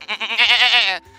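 A voice imitates a goat, giving a single loud, close bleat about a second long with a wavering, nasal quaver, heard alone.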